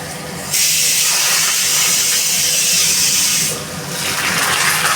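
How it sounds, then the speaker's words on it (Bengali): Potatoes fry in a pan for a fish dish, giving a steady, loud hiss that swells after a brief quiet start, eases for a moment near the end, then picks up again. No one talks. "আলুটা একটু ভেজে নিচ্ছি।"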